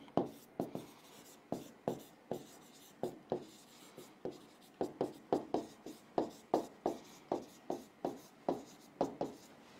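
Chalk taps and scrapes on a classroom board in quick rhythmic bursts, a dozen or more short strokes in a row, close and clear with no talking.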